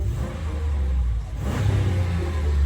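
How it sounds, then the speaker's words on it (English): A 2015 Dodge Ram engine revs up close: a deep idle rumble that swells into a louder, rising roar midway, then holds strong. "So let me rev it."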